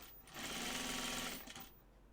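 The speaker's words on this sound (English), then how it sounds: "I'm just going to do a French seam here at the bottom." A sewing machine stitches a French seam on crisp poplin for pajama bottoms, running in one close, steady burst of about a second and a half with no talk.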